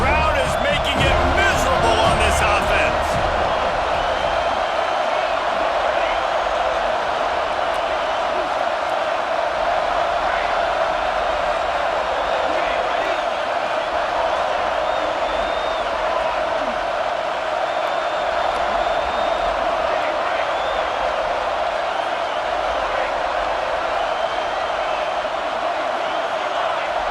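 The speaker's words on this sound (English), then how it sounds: "4th down, and this crowd is making it miserable on this offense." Stadium crowd noise in an American college football video game between the Irish and the Seminoles, a dense, steady roar that holds for the whole stretch at high volume, with a brief burst of louder noise near the start.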